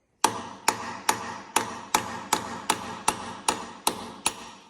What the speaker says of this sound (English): And then I've got something to chisel off.